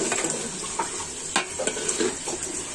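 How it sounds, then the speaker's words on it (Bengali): Tilapia curry with jackfruit seeds sautéing in a pan: a loud, close sizzle broken by repeated spatula scrapes and stirs in an uneven rhythm, with no voices. "দেখুন আমি যে কষাচ্ছি জিনিসটা"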